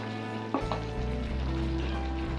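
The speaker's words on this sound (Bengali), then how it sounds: "এরপর আমরা আমাদের এখানে মাছের পিসগুলোকে দিয়ে" Pieces of puti fish go into a frying pan of cooked vegetables, where they hiss steadily under a constant low mechanical hum, with a brief clatter as they land.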